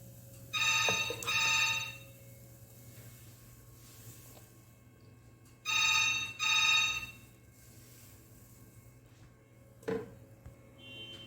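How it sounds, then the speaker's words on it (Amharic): A telephone rings in two double bursts of bright electronic trills several seconds apart, clear over a low steady hum, followed by a short knock near the end. "ስልክ ተደወለብኝ።"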